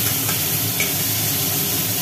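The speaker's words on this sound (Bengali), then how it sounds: "চিংড়িটা ভাজা হচ্ছে" Chopped prawns fry in a hot wok with a loud, dense, steady sizzle and hiss, and stirring scrapes run beneath it.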